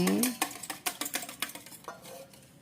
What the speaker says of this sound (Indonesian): kita kocok telurnya